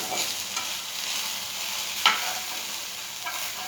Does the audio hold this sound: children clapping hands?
no